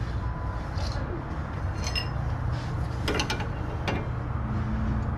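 A ratchet tightens the nut on a 2002-2006 Chevy Avalanche tie rod, a few quick clicking ratchet strokes over a low background hum, close by, with no talking.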